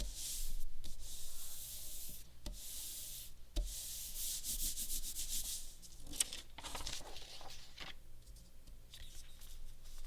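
Scrap paper rubbed firmly over a finished papercut valentine card, a steady dry sanding-like scraping with several separate strokes, close and fairly loud, no voices.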